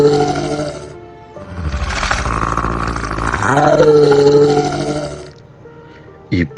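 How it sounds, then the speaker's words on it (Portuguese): Dogs outside at night letting out loud growling, roaring and howling cries in a dramatic scene, with a long drawn-out wail in the middle and a brief sharp sound near the end. "Os cachorros não paravam de latir"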